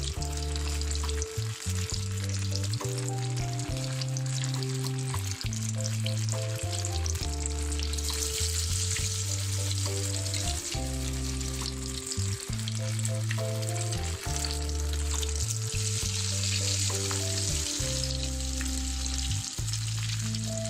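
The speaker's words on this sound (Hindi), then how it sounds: "थोड़ी देर के लिए फ्राई करेंगे और फिर हम बॉल्स निकाल लेंगे।" Rice kofta balls, dipped in egg, fry in hot oil with a steady, loud sizzle throughout, laid under prominent background music.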